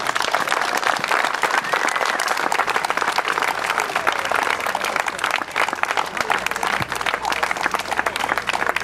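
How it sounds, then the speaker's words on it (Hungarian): An audience at a playful firefighting demonstration in Budapest's 14th district applauds the little firefighters, with dense, loud, sustained clapping and crowd noise lasting several seconds. "nagy tapsal köszöntsék a kis tűzoltókat"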